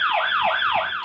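A loud, rapid wailing ambulance siren sound effect from a toy, sweeping up and down in quick repeating cycles, close and electronic-sounding, with nothing else audible.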